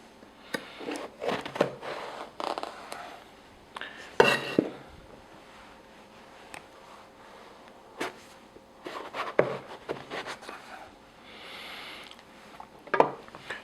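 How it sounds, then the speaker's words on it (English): A knife cuts eggplants in half on a board, giving scattered sharp knocks and clatters of the blade and utensils, some louder thumps among quieter handling sounds, with no talking. "we'll start by cutting each eggplant into 2, right in the middle"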